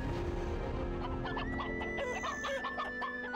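Chickens in the online game Black Desert Online cluck in a busy, overlapping flock, with one rooster-like call among the steady background.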